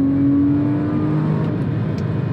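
The naturally aspirated engine of a 2007 Porsche 911 GT3 (997.1) holds a steady, loud drone in a gear from inside the cabin, with a sustained harmonic whine and no speech over it.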